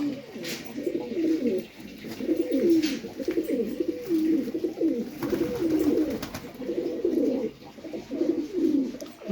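Domestic pigeons sold as flying birds coo steadily and close by in repeated rolling phrases, with a few brief higher chirps mixed in and no talk.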